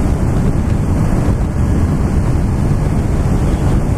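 Steady loud wind rush buffeting past a rider on a BMW S1000RR superbike at speed, broadband roar with low-end rumble, continuous and unbroken with no talking.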